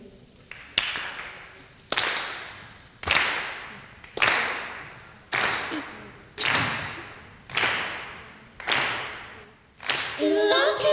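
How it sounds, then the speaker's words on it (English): A live audience at a band show claps in unison, about eight sharp, evenly spaced hand claps with reverberant tails, loud and rhythmic, with music beginning at the end. "can I get you guys to clap along with me real quick?"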